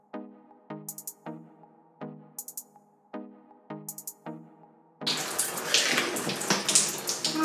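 Running water rinses shampoo out of natural curly hair, a steady broadband wash that starts abruptly partway through after a stretch of quieter repeated tones, continuing close and fairly loud with no talk.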